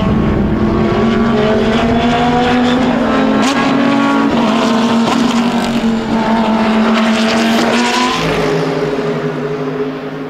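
GT race cars at full throttle on the BalatonPark circuit, engines screaming loud and sustained as they pass close by, with a steady roar and slight pitch shifts throughout.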